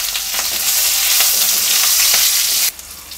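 Green chilies hit hot oil already holding bay leaves and whole cumin, giving a loud, steady, close sizzle with stirring. The sizzle drops sharply near the end.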